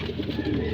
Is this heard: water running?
no